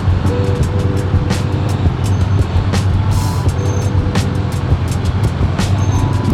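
A Kawasaki Z900 motorcycle riding through city traffic, its engine loud and close with a steady throaty drone and repeated sharp surges as the throttle is blipped, over road noise.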